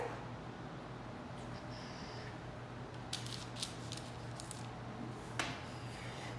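A biscuit cutter pressing through buttermilk biscuit dough gives a few soft, faint crunching cuts near the middle of the clip, over a low steady room hum.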